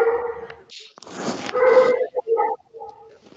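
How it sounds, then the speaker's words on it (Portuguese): Several dogs bark, yip and whimper in short excited bursts close by, mixed with a person talking over them. "Peraí que meus cachorros resolveram ser felizes hoje."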